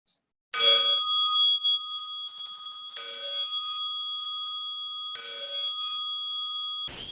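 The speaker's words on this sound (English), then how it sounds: "As you listen to the bell" A meditation bell rings three times at slow, even intervals, each strike bright and clear with a long shimmering ring that fades in a quiet room.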